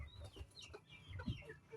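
Black Spartan gamefowl chicken in a backyard, giving a few quick, soft clucks close by, with brief chirpy calls mixed in and no talking.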